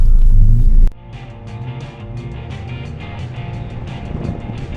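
A Nissan March engine revs hard at a grasskhana event, reversing across a grass course. The steady, close engine drone rises and holds after a loud opening burst, with no talk over it.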